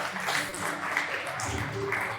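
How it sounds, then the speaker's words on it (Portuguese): A church congregation applauding during a worship service, with a steady wash of clapping over several seconds mixed with voices. "Aplauda ele, aplauda ele,"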